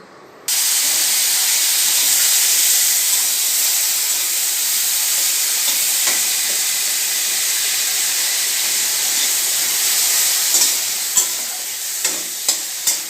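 Chopped tomatoes with ginger and green chilli sizzle steadily in a hot pan for pasta sauce, a loud continuous frying hiss with a few sharp clinks of stirring near the end and no talk.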